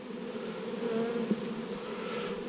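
Honey bees hum steadily around an open hive of frames during a hive combination in Texas, a close, continuous buzz with no voices.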